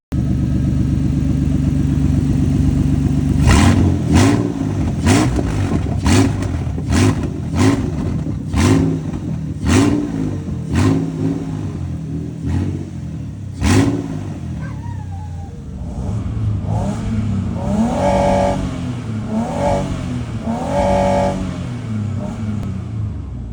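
A Toyota Land Cruiser Prado 120's newly swapped engine idles roughly and revs in short bursts, with sharp pops and a steady rumble, loud and close, outdoors.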